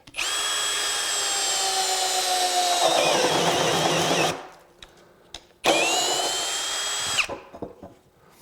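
A RIDGID R86115 brushless 1/2-inch cordless hammer drill at speed 1 whines steadily at a fairly low pitch, stops, then revs up again for a second run before cutting off.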